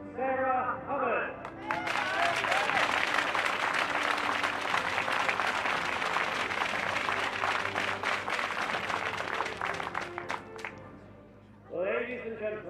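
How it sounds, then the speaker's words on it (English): An audience at an archery tournament final award ceremony breaks into loud, sustained applause that lasts around ten seconds, with a voice speaking briefly before the clapping and again once it fades. "please give a warm round of applause to our athletes"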